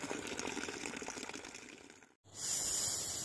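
Water gushes steadily from a small stored spring source along the Madmaheshwar trek in the Uttarakhand hills, a close, even hiss that drops out briefly before resuming brighter and louder.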